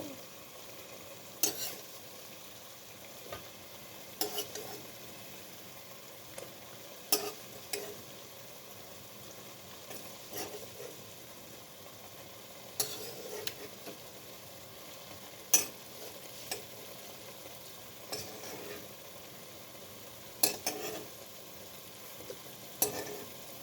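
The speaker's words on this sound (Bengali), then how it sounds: "কচু দিয়ে একটু কষাবো" Taro sautés quietly in a pan, a faint low frying hiss beneath repeated sharp scraping strokes of a spatula every few seconds, close and intermittent, with no voices.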